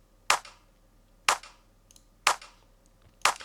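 A crisp electronic clap sample from Loop Cloud plays in a dance track, four sharp dry claps landing evenly about a second apart, each with a short bright tail, and no other sound around them.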